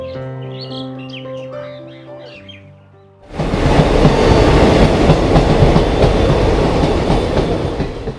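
A train runs on rails near Panskura Junction in West Bengal at night; after a quieter opening, a loud, steady rumble and rattle of wheels and carriages suddenly takes over and carries on close by.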